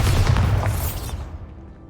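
A Bombarda explosion spell detonates in Hogwarts Legacy, a single loud, close blast with a heavy low boom and crackling debris that decays over about a second into a fading rumble, with no talk.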